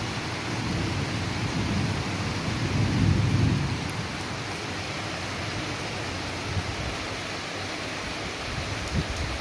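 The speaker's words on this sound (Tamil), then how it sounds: "மழை பெய்யுற சத்தம் கேட்கணும் உங்களுக்கு?" Heavy rain pours in Kerala, a loud, steady wash over the whole stretch, while a low rumble of thunder swells and fades partway through.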